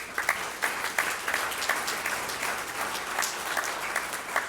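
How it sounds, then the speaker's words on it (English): A room full of people claps steadily at a hall of fame enshrinement ceremony, a warm, even round of applause with no voices over it. "Let's just give them a round of applause."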